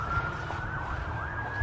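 An emergency vehicle siren wails steadily and loudly throughout, its pitch sweeping up and down over the low rumble of road traffic.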